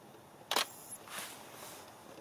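Camera shutter during an outdoor product photography shoot: one crisp click, then a fainter second click shortly after, alone against quiet outdoor ambience.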